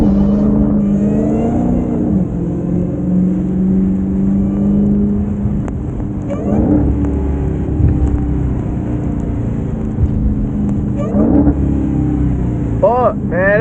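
Dodge Hellcat Redeye engine running and revving while driving in the rain, a steady low rumble with occasional throttle swells, talk over it throughout.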